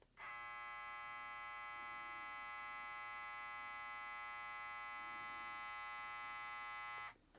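A Monster Assassin hair clipper runs steadily for about seven seconds, a loud, even electric buzz with a strong tonal whine that starts and stops abruptly.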